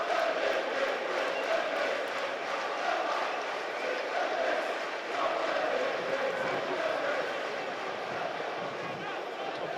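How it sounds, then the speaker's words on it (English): Football crowd at a Sunderland AFC vs Derby County match, a continuous roar of shouting voices from a large stadium audience, with a commentator speaking over it. "as the crowd shout"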